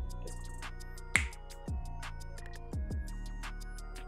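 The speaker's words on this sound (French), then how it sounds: "Petit claquement de doigts et elle apparaît juste ici en mode BG" A single sharp finger snap rings out close by over a steady music bed, followed by a few softer percussive clicks, with no talking.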